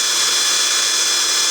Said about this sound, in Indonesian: Melubangi tempurung kelapa dengan menggunakan mesin bor